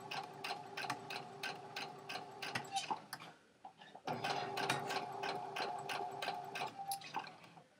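Sewing machine stitching fabric at a steady, fairly fast speed, with a rapid rhythmic mechanical ticking. It pauses briefly midway, then resumes, and the whole clip is quiet and close.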